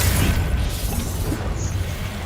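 Spell blasts from the video game Hogwarts Legacy, a dense, continuous rumble of booming explosions and crashing bursts that fills the whole moment loudly, with no talking over it.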